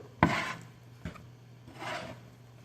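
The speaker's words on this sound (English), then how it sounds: "We start kneading the dough." Gnocchi dough of potato and flour pressed and worked with a spatula, a sharp scrape followed by softer rubbing strokes, close and quiet.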